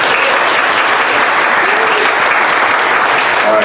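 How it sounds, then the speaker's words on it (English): An audience applauds panel speakers at a talk on smart cities, a dense, loud, steady clapping that fills the whole moment with no speech. "let's give a great round of applause for our speakers"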